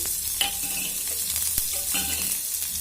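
Chopped onion, green chilli and curry leaves frying in oil with cumin and mustard seeds, a steady close sizzle broken by a few quick stirring scrapes of a spoon in the pan, with no talking.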